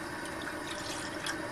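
A wine glass of cold water pours into a bowl in a kitchen, a steady close splashing rush with no talk over it.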